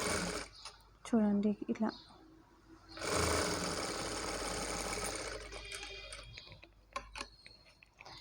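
A sewing machine stitches a maggam work blouse, its motor whirring in a sustained run after short bursts and ticks, while someone talks between and over the stitching.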